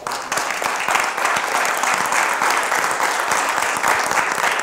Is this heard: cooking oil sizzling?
no